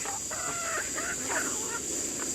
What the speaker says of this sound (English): Yes, you're a very chatty, grumpy little chicken.